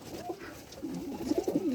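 Domestic pigeons cooing close by in a loft, a few soft throaty coos that grow into a rolling, repeated cooing phrase toward the end, with light background noise.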